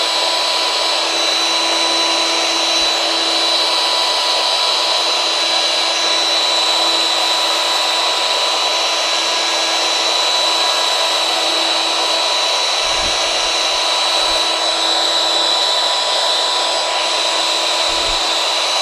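A CNC machine cutting a wooden clock back gives off a loud, steady, high-pitched spindle whine that holds without a break, with a few low thuds near the end.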